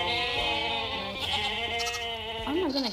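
A goat from the Minecraft Jurassicraft mod gives a drawn-out, wavering bleat over a continuous music-like tonal bed, rising into a short pitch sweep near the end.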